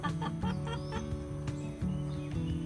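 A Black Copper Marans rooster gives soft, repeated clucks and short calls in a quick uneven rhythm, fairly quiet and a little distant.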